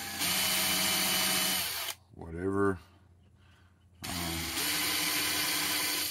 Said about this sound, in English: We're going to pre-drill all 8 of these holes.